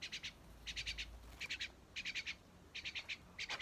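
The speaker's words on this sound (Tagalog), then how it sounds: "Ganda ng ibon no." A bird sings outdoors in a morning yard, repeating quick bursts of three or four bright chirps separated by short pauses, clear but fairly faint over a quiet background.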